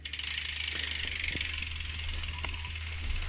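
Fast, continuous ratcheting clicks while a rear derailleur cable is tightened on a SRAM Eagle 12-speed mountain bike, close and steady with a low hum underneath and no talking.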